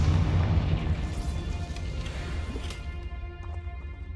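A Confringo fire spell explodes in Hogwarts Legacy, a heavy rumbling boom that hits at once and then slowly fades into a hissing, crackling tail, loud and close with nobody talking.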